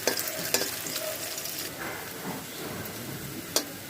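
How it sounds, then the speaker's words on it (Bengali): Spice paste for a Bangladeshi fish curry with onion fries steadily in a pan, a close, even sizzle broken by a few sharp scrape-like clicks from stirring. "পেস্ট হালকা হালকা ভেজে নিলাম"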